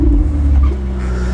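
A Ferrari supercar's engine turns over and settles into a loud, steady low idle rumble close by, with no talk over it.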